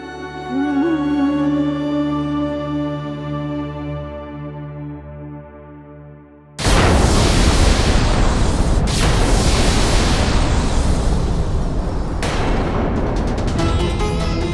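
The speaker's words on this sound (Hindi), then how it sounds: "ऐसा लग रहा है जैसे जैसे कोई भयानक विस्फोट हुआ हो।" A sustained musical tone gives way to a sudden, roaring blast that rumbles on loudly, with further bursts breaking through the din.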